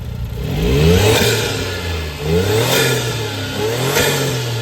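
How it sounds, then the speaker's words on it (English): A car engine revs up repeatedly, rising and falling in pitch through several loud surges with a steady idle rumble between them. "Let me give it a couple revs."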